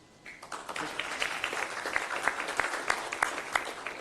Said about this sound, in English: Let's give our library employees a round of applause